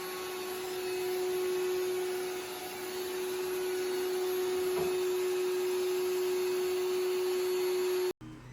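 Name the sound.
shop vac vacuum cleaner running on robot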